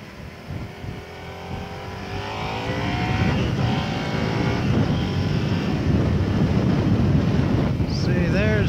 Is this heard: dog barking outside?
no